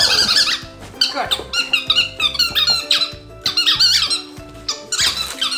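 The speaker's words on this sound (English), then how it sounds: "These are his favorite squeaky balls." Squeaky rubber dog toy balls squeezed repeatedly, producing loud, close, high-pitched squeaks in quick irregular bursts throughout.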